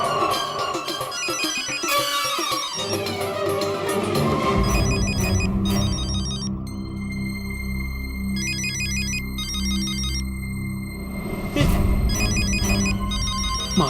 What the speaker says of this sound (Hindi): माधवी का फोन तो यही है।